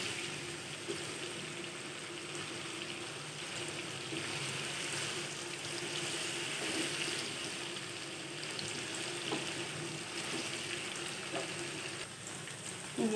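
Chicken simmering in a covered pot for white korma, a steady soft bubbling and faint sizzle that runs evenly throughout without talk.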